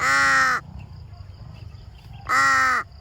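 A crow gives two loud, harsh caws, separated by a pause with quiet background noise.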